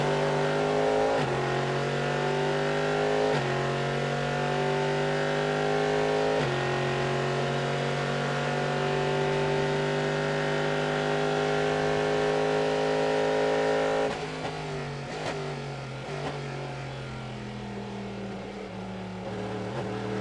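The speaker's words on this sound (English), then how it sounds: "Sounds of the GM Chevy Corvettes." Chevrolet Corvette GT race cars at Sebring give a loud, steady engine drone with gear shifts and pitch changes as they pass, then a dip in level as one car eases off.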